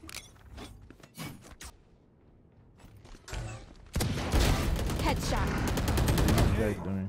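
Sheriff pistol fire in Valorant, a game of loud sharp shots, rapid bursts of gunfire dominating the last three seconds after sparse earlier clicks and shots, with a voice speaking amid the action.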